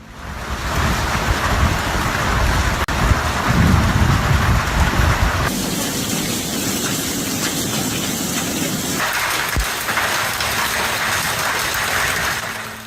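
Heavy rain pours down during a storm, a loud, dense, steady roar of hissing and gushing water that fills the whole stretch with no voices.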